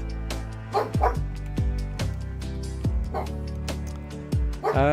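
A dog barks repeatedly in short, loud bursts, some pitched like yelps, with steady background hum and possible muffled voices underneath.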